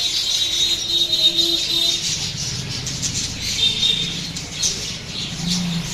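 Caged gugu doves at a pet bird shop give soft coos and squawky calls, with a few wing flutters over a busy background murmur.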